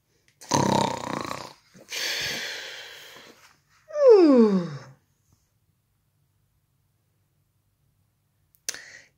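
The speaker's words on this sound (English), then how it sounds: "as soon as he was snoring again," A few loud, drawn-out snoring and snorting sounds, one ending in a falling groan-like snore, spaced apart with silence between them.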